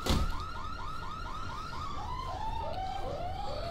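A car alarm sounds in the zombie video game Dead Island, a loud, fast, repeating whooping siren cycling rapidly and steadily throughout, with no speech.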